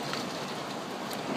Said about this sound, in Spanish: mucha lluvia